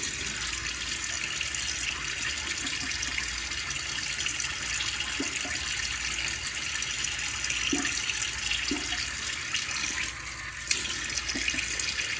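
Tap water runs steadily into a sink while a face is wetted before a shave, a continuous close hiss with faint splashes and no talk.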